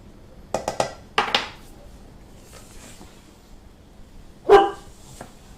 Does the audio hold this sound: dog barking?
yes